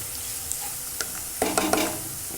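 Onion browning in a pan sizzles softly and steadily at home, broken by a few clinks and scraping stir strokes from a spoon toward the end.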